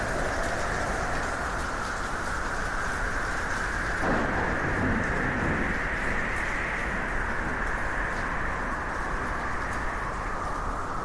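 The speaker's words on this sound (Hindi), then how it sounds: "कड़कती बिजली की आवाज से शिबू की आंखें खुल जाती हैं।" Steady heavy rain pours through the storm, with a low rumble of thunder swelling in the middle before the downpour carries on alone.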